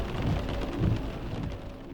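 Low thunder rumbling from an approaching monsoon storm, a continuous deep roll mixed with the hiss of rain, fairly loud and with no voices.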